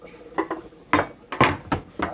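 A kitchen knife cuts cassava into smaller pieces on a board, with a series of sharp, close chopping knocks in uneven rhythm.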